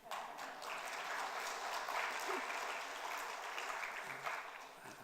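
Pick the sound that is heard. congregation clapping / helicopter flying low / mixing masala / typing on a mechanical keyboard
congregation clapping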